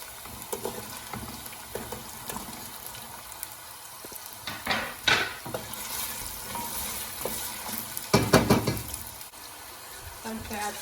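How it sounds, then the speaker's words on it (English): Chopped onions hit a hot pan for a lamb and squash dish, bursting into loud sizzling flare-ups amid steady frying crackle and occasional clinks of utensils against the pan. "I'm going to add my chopped onions now."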